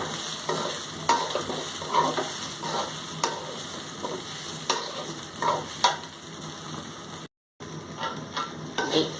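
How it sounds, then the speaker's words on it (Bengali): Rice and raisins fry in a hot pan for egg biryani, a steady sizzle broken by repeated scraping strokes of a spoon stirring, close and continuous with a short gap, no talking. "এই চালটা ভাজা হয়ে যাচ্ছে।"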